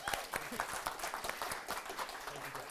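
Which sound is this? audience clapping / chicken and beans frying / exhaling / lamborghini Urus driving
audience clapping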